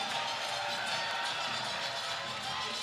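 A boxing arena crowd roars steadily, a continuous wash of cheering that stays loud and unbroken throughout.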